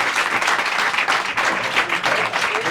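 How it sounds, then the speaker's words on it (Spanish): Applause from an audience after a science talk at a rural development conference in Galicia, dense and loud clapping that holds steady throughout. "Un aplauso"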